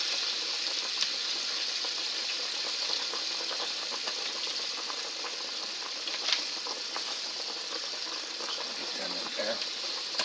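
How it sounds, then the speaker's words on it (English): Hard vegetables for a vegetable lo mein hit hot oil in a stir-fry pan and give off a continuous bright sizzling hiss with small crackles throughout. A voice speaks briefly over the frying. "If you notice the sizzle went down, that means your oil got too cold."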